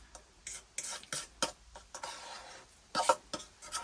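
Ground hamburger and cheese stirred in a camp cooking pot over a fire, giving a run of close, irregular scraping and clinking strokes with soft sizzling between them, no talk over it.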